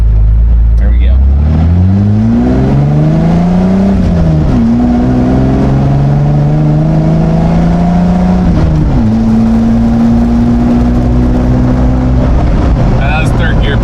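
Jeep engine pulling hard in first gear, rising revs in long sweeps with gear-change dips, loud and close from inside the cabin, with people talking over it at times.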